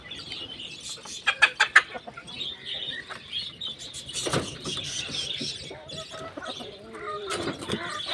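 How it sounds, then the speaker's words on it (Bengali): A rooster and hens at a farmyard morning feeding cluck in a quick burst of sharp calls, then scattered softer clucks and chirps continue nearby among the flock. "দেখো মোরগটা কি করে এদেরকে দাবড়ায়"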